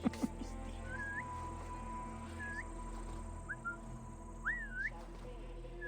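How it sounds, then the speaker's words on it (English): A short whistled tune from a peasant character in a Viking-era video game, rising and sliding phrases repeating every second or so over a steady low background hum, fairly faint. "I am just a whistling peasant."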